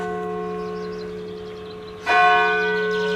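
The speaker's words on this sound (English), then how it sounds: "the bells." A church bell in Kruisland, a village in North Brabant, hums as it decays, then rings again with a loud, bright strike whose tone lingers and resonates nearby.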